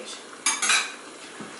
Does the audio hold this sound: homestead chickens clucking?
no